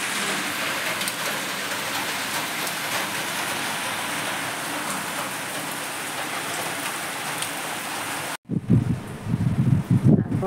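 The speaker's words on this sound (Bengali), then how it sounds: "বাইরে তো সমানে বৃষ্টি, সেই সমানে বৃষ্টি হচ্ছে।" Heavy, continuous rain falls outside during a wet-season downpour, a loud, steady, unbroken hiss with no voices, until it cuts out abruptly near the end and gives way to uneven, rumbling gusts.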